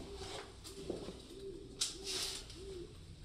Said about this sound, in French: Des chouettes, j'en sais rien.